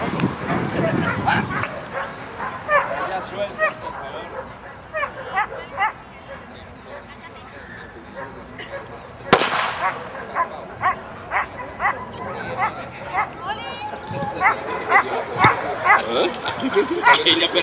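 Dog barking repeatedly in short yips and bow-wows, with some whimpering, at an outdoor event where people shout and talk over it; the barks come in bursts throughout, fairly close and moderately loud.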